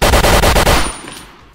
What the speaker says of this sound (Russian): эта пушка у меня вообще стоковая